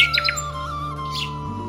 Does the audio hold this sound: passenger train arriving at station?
no